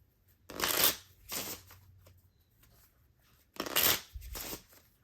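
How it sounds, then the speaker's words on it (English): Two pairs of quick riffling card shuffles, each a burst of crisp fluttering flaps, separated by a quiet pause, close and fairly soft. "put the 9 of diamonds back in the deck and shuffle"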